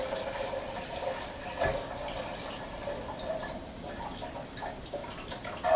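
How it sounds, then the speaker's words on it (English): Distilled water pouring into a blender holding raw almonds, filling it to the four-cup mark; a steady, close trickling and splashing stream runs throughout with small dripping accents. "I use distilled water. So I'm going to fill this up to the 4-cup"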